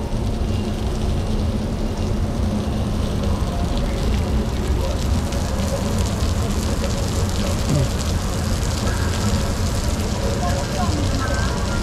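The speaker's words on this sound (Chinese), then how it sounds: "这是下雨呢" Steady outdoor rain falls as a dense, continuous hiss and patter throughout, fairly loud and unbroken, with no clear voices over it.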